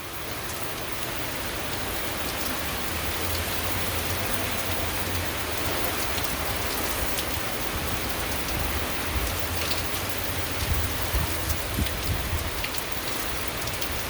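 Heavy rain pours down during an intense rain band in southeast Virginia, making a dense, continuous roaring hiss that holds steady at full strength throughout, with no voices.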